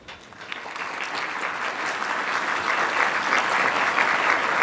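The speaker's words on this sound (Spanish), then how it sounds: "a quien invitamos y recibimos con un caluroso aplauso" A conference audience claps to welcome a speaker, dense applause building steadily and growing louder over several seconds with no voices over it.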